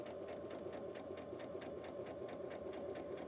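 A sewing machine runs steadily, stitching quilt blocks in a lesson on sawtooth and triangle square blocks. The motor hums with a fast, even needle pulse, moderately close, and no one speaks.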